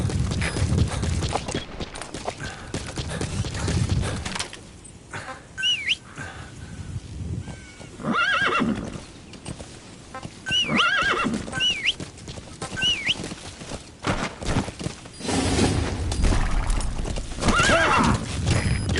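Horse hooves clip-clop steadily in a video game while a horse neighs and whinnies several times, with birds chirping faintly in the background.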